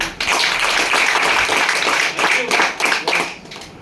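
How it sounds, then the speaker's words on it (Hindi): Clapping from an audience greeting first-time newcomers at an AWPL business meeting, a steady, fairly loud patter of many hands with some overlapping voices, lasting several seconds. "नए लोगों की जोरदार ताली दीजिए"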